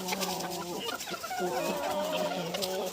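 Young roosters and hens running together cluck and call continuously at close range, several birds overlapping in a busy, steady farmyard chorus.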